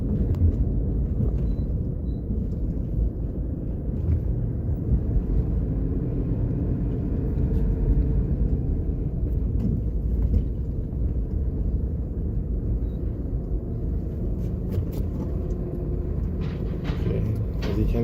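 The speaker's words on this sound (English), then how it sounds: "we're going to turn into the Loshusan shopping center and drive through it" A car rolls slowly through the Loshusan shopping center in Jamaica, with a steady low engine rumble and road noise held close and even throughout, brushed by light wind on the microphone.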